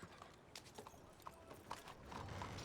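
Horse hooves clip-clop at a steady walking pace in a Wild West roleplay video game, fairly close and moderately loud over faint background murmur.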